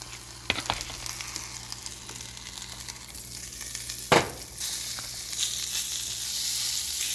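Butter and breakfast food sizzle steadily in a pan, with a few light clicks and a sharp burst of louder frying partway through, no talking.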